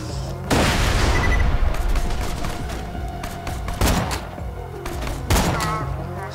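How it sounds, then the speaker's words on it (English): Grenade explosions and gunfire in the video game Borderlands 2, a loud sustained barrage of booms and shots with sharp renewed blasts around the middle and end, with a little talk underneath. "Whoa, they're good shots with grenades."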